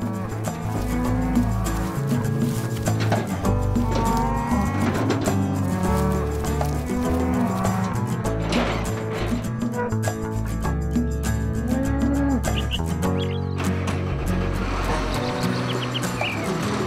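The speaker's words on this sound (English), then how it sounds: "the entire herd, with Nougaro at the head, sets off for the fields" A herd of cattle with calves set off toward the fields, low moos rising over a steady, busy backdrop with faint bird chirps, no talk over it.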